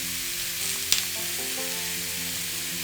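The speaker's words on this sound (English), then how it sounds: "We're gonna add our beef in there." Beef pieces with salt fry in a pan, a steady broadband sizzle throughout with a brief sharp clatter near the start as meat drops in, close and continuous, no voices.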